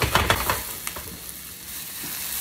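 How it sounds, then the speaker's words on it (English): Sliced onions frying in a pan while being stirred for Samoan chop suey: a steady close sizzle with a few sharp utensil scrapes and clacks in the first second, then a softer continuous frying hiss. "Take our onions, our sliced onions in. Cook these down slightly."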